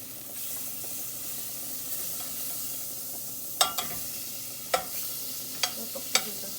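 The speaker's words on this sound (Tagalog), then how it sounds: "Magigisa na tayo. Lalagyan na natin ng star margarine." Star margarine sizzling in a pan to start sautéing for arroz caldo: a steady low fry with several sharp utensil scrapes and taps against the pan in the second half.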